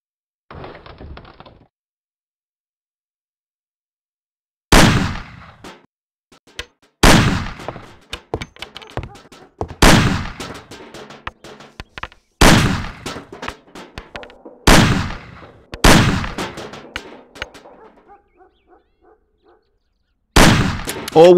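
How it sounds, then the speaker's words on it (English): Pistol shots in the game Mafia, fired at cans on a table in a tutorial, ring out as seven loud, sharp cracks spaced a few seconds apart, each trailing a short clatter and decay, with a faint murmur at the start. "Shoot the cans off of the table."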